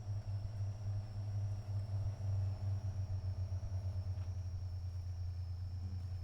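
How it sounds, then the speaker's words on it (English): A fifth-generation Dodge Ram pickup working off-road with too much wheel spin, heard as a steady, loud low engine rumble and droning drivetrain noise that continues throughout without a break. "Too much wheel spin."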